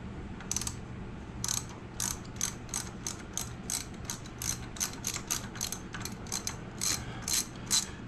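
A ratchet backs out the one-time-use brake caliper bolts on a 2008 Honda CBR1000RR, giving a steady run of close, crisp pawl clicks in quick rhythmic bursts over faint background hiss, with no talk.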